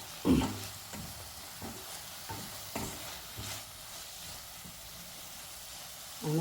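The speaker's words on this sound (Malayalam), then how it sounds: "രണ്ട് മിനിറ്റ് നമുക്കൊന്നിങ്ങനെ ഇളക്കിയിട്ട് നന്നായിട്ട് യോജിപ്പിക്കണം" A spoon stirs tomato and spinach in a frying pan, with a series of scraping strokes at uneven intervals over a soft, continuous sizzle.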